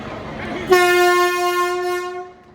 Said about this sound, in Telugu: మన ట్రైన్ అయితే గుంతకల్ రైల్వే స్టేషన్ నుంచి బయటకి అయితే వచ్చేసింది